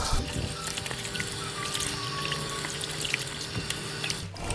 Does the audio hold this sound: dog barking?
no